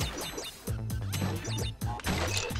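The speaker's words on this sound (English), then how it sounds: "The annoying sound you hear in the background is just some enemies in the back." Enemies in Crash Bandicoot: Wrath of Cortex, in the water level H2 Oh No, make repeated chirping, whooping calls over busy game music and clattering effects, coming in bursts every second or so throughout.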